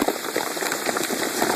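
Hail pelting down during an intensifying hailstorm, loud, dense and continuous, a steady rattling patter of stones striking surfaces close by with no talking.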